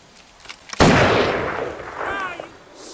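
A single loud gunshot in the video game GTA 5 cracks out sharply, then rolls into a long echoing decay, with faint game background sounds beforehand.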